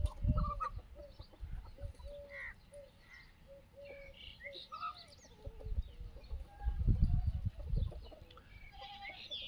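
Several native desi Aseel chickens on a poultry farm cluck and chatter nearby in bursts, with low rumbling handling noise and faint bird calls mixed in; no one speaks.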